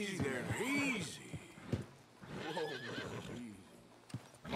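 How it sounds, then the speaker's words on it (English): Horse whinnies and neighs with clip-clop of hooves in the Western video game Red Dead Redemption 2, several loud rising-falling calls spread across the clip, with a voice talking between them. "Marston, you're gonna tether him up to Javier's horse"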